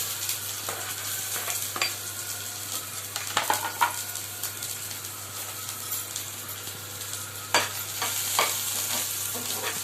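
Onions frying in a pan, a continuous close sizzle with scraping stirring strokes and occasional louder crackles, no voices.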